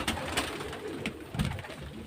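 Pigeons kept for sale coo in low, soft, rolling calls close by, several overlapping coos repeating across the short stretch with a little background rustle.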